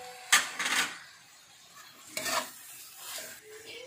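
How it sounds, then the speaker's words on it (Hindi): Hakka noodle vegetables with green peas and capsicum (shimla mirch) tossed in a pan, heard as two or three loud scraping stirs over a faint sizzle, close up and with no speech. "हम इसको अच्छे से चला देंगे"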